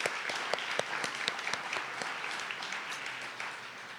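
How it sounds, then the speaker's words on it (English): An audience at a breakfast event on healthy aging and frailty gives a round of applause for a panel, with dense, even clapping from many people at a steady moderate level for several seconds and no speech over it. "One more round of applause for such a great panel."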